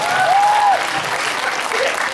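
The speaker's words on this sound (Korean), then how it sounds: "박수 부탁드릴게요" Audience applause at a fan meeting talk session in Pyeongchang, a dense steady wash of clapping from a crowd filling the whole clip, with a brief whistle-like tone near the start.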